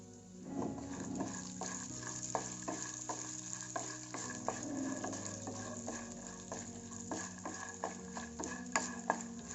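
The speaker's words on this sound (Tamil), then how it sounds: "இப்போ நம்ம நெய் விட்டு இந்த சுண்டக்காய் வத்தலை வறுத்து எடுத்துக்கலாம்." Dried turkey berries (sundakkai vathal) frying in ghee in a pan, a soft continuous sizzle broken by a steady series of sharp taps and stirring scrapes from a spoon, close and fairly quiet.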